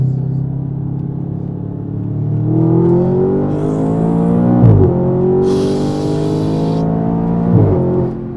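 An Audi RS5 with a muffler delete accelerates hard, its loud raw engine note climbing steadily through the gears, with brief drops at two shifts, heard close from inside the car.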